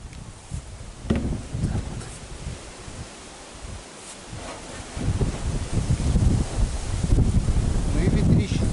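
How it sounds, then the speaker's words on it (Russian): Strong wind buffets the microphone in rumbling gusts outdoors in a village, easing briefly midway and then roaring louder and steadier toward the end. "Ну и ветрище сегодня, а?"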